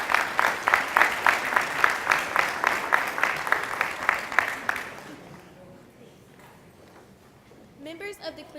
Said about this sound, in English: Let's give these parents a round of applause.